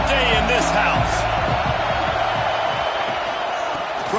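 A football stadium crowd roars steadily through a college game between Oregon and Texas, a dense, sustained wall of cheering that holds loud from start to finish, with a commentator talking over it.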